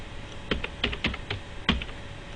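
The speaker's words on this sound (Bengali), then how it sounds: "আমি এখানে কাশি টাইপ করলাম" A short burst of keystrokes on a computer keyboard: several quick, crisp clicks in an uneven rhythm, close up, with no voices.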